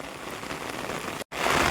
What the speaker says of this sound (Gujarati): આજે તો એકદમ મુશળધાર વરસાદ પડી રહ્યો છે